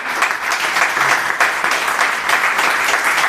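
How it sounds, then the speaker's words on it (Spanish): Loud, dense applause from a crowd, steady throughout with no pauses. "¿Le puedo dar un aplauso al Señor?"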